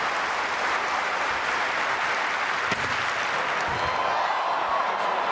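Stadium crowd at a Commonwealth Games long jump, clapping before an athlete's first attempt; steady dense applause wash throughout, even and distant-sounding with no standout voices.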